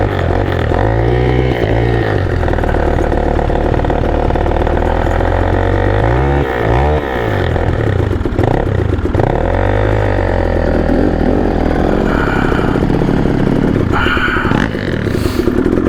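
A cold dirt bike engine, a 2022 Yamaha YZ450FX or 2014 KTM 300XC, idles loudly and close on a Payson Canyon trail ride. A steady rumble runs throughout with a few throttle swells and some clattering.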